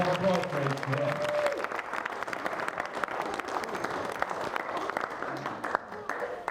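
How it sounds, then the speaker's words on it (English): Wedding guests give a big round of applause for the bridesmaids, dense sustained clapping filling the room, with a voice speaking briefly over the start. "let's give a massive round of applause to our beautiful bridesmaids here"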